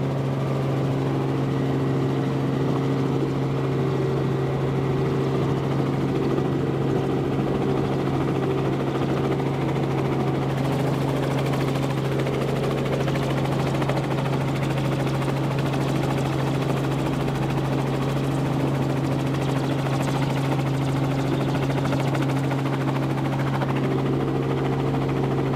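News helicopter flying over Tokyo near the bay-area heliport, a loud continuous rotor and turbine drone with a steady low thump, close and unbroken throughout, with no talk.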